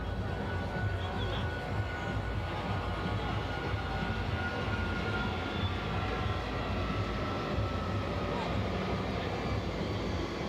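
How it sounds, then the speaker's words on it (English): An aircraft passes overhead during an outdoor Ascension Tournament football match between Deportivo PF and AC Pos, a steady broadband engine roar holding throughout with faint crowd and commentary sounds underneath. "just like the aircraft that's flying above us at the moment"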